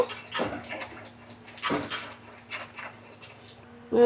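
A spoon stirs boiling lentils in a cooking pot, giving a few close scraping strokes against the metal, two of them strong and the rest lighter and softer.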